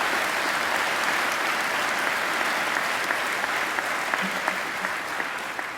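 A graduation ceremony crowd gives the singer another round of applause, a dense, sustained roar of many clapping hands at a steady level throughout, with only faint traces of voices underneath.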